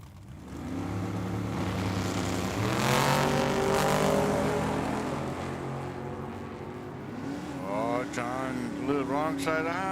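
Drag racing cars roar and rev loudly as they launch down a Tucson dragway strip, engines droning steadily under an announcer's trackside commentary, with rising engine whine near the end.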